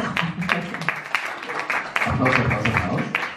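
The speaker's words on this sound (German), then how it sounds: "Genau, auch mal Applaus." An audience at a book tour reading breaks into brief, lively clapping that builds and then fades within a few seconds.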